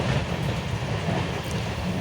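Rolling clickety-clack of an express train's wheels as it pulls out from Sealdah, a steady broadband rumble heard from inside a nearly empty carriage, with no voices.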